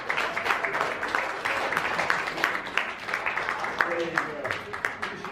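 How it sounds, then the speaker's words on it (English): An audience claps for a young woman at a magic show during a shopping mall launch in Las Vegas, a lively patter of hands mixed with voices talking over it throughout. "Give this young lady a big round of applause"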